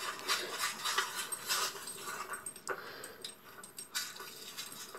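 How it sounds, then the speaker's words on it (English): A protective dog pants in quick, breathy bursts close to the microphone, a soft rhythmic huffing repeated throughout with an outdoor walk in the background. "And there's her dog, Molly."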